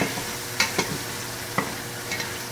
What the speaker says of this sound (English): as soon as I give this a stir